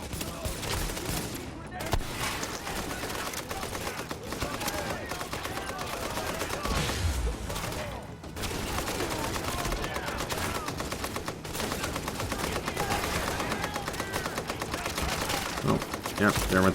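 Sustained heavy machine gun fire from a giant armored enemy in The Division, a dense continuous clatter of automatic shots with crashing impacts, loud and near throughout, mixed with other combat noise.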